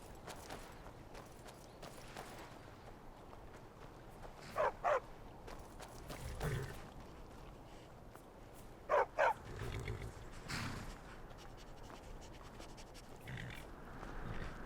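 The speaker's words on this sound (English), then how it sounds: "Need a trained war dog?" A trained war dog in the Skyrim video game barks in a couple of short doubled bursts, moderately close, over a low ambient game backdrop with faint clopping.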